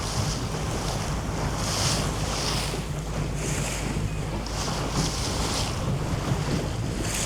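A 20-foot Seacraft center console boat runs upwind offshore, with a steady engine drone under constant rushing wind and waves slapping the hull, all loud and continuous with periodic gusts.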